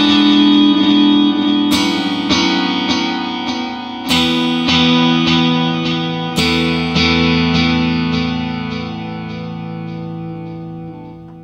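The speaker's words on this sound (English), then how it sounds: "Echo is a standard digital delay." An electric guitar played through the standard digital delay mode of an Electro-Harmonix Canyon delay and looper pedal: three struck chords, each followed by a trail of repeating echoes that fade gradually, loud and clean with no voices.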